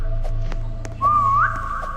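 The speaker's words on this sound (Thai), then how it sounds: "น้องผู้ตามก็ผิวปากช่วยจริงเลย" A person whistles a short rising and sliding tune, loud and near, over a steady low hum and background game sounds, with no talk.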